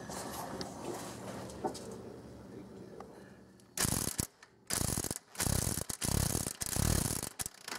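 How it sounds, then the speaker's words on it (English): A ratchet cranks against the cam bolt on a 1995 Oldsmobile 3800 engine, giving loud bursts of metallic clicking after a quieter stretch of shop background. "can take the cam bolt out now."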